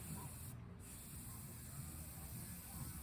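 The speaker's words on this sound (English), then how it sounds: "Spray painting is quite easy." A quiet, continuous hiss of spray from an aerosol spray paint can painting a chair, with a brief break partway through before it resumes.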